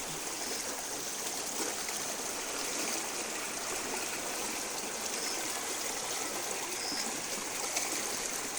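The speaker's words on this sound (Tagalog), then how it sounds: "Kami po'y tatawid ng baha. Malakas ang agos." A strong current of flood water after heavy rain and wind rushes in a constant, dense, close roar with no pauses.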